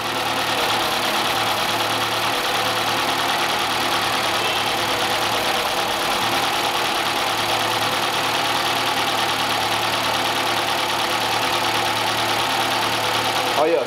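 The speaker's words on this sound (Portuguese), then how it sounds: "a marcha lenta dele tá bem irregular" A Peugeot 208 engine idles unevenly and continuously close by, a steady mechanical drone with a faint knocking roughness, while someone talks over it at times.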